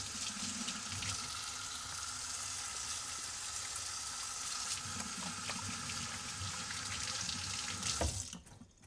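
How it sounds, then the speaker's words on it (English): A kitchen tap runs steadily while hands are washed beneath it, a continuous close splashing hiss that stops abruptly near the end. "Gonna wash my hands."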